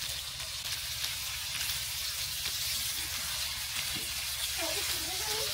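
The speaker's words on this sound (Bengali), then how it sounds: "মাছগুলো আমি ভালোভাবে উল্টে দিয়ে ভেজে নিব।" Hilsa fish pieces, turned over, fry in oil in a clay pan with a steady moderate sizzle, and light scraping and bubbling toward the end.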